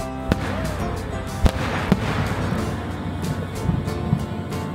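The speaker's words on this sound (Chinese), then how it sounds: "呢度每晚喺限定时间仲会有烟花表演" A fireworks show over the Hoshino Tomamu ski resort in Hokkaido on a cold winter night: several sharp booms and crackling bursts, irregularly spaced, ring out over a steady dense rumble of distant explosions.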